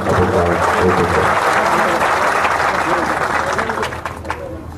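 Crowd at a public rally meeting breaks into sustained applause, dense clapping from many hands that stays loud and then tapers slightly at the end, with a voice partly audible over it.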